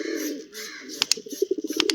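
Pigeons coo softly in a low, throaty murmur, followed by a few sharp flutters or taps and rapid short coos toward the end, nearby and fairly quiet.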